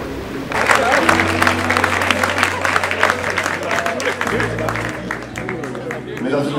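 An audience at Congolese Tourism Week in Kolwezi, Lualaba province, breaks into dense, sustained applause. The clapping stays loud throughout, mixed with crowd babble and a low musical drone underneath.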